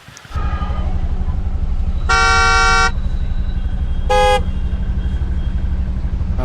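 Busy road traffic near Lonavala heard from a motorcycle, with a continuous engine drone, two loud horn toots from passing vehicles and a fainter honk earlier.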